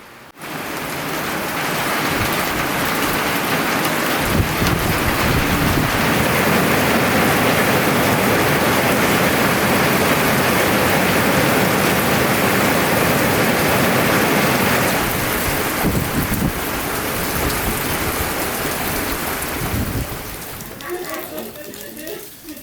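Heavy rain pours steadily in Argentina during a round-the-world scooter trip. The dense, hissing downpour stays loud for most of the stretch, with voices faintly underneath, then eases near the end.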